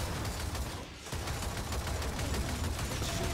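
Sustained automatic gunfire in Gears of War 4, dense and loud with a brief dip before the shooting resumes, aimed at an enemy shield, no talking.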